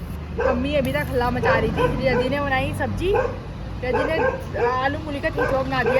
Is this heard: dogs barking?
yes